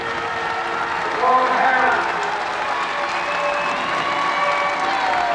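Crowd applause and cheering from spectators in the Anglesey stand saluting the show-jumping horse Kilcoltrim, a steady broad wash of clapping that swells slightly after the first second and carries on throughout.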